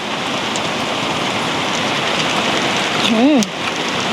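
Steady rain falls on a campsite in Nakhon Nayok throughout, a continuous even hiss with a brief higher warbling tone near the end.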